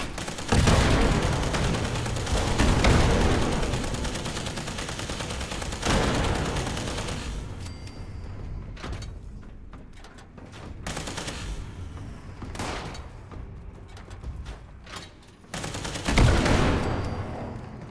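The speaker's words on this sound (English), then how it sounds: "Very noisy gun as well." Tesla rifle fire in the video game Fallout 76 crackles in loud, rapid continuous bursts, thinning into scattered sharp shots before another dense volley near the end, with no voices.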